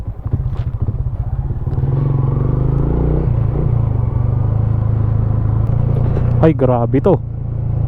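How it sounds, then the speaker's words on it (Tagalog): Motorcycle engine braking on a mountain road from Taloy Norte to Sablan, Benguet, a loud, steady low drone and rumble that holds throughout, with a man's short spoken exclamation near the end. "Engine brake."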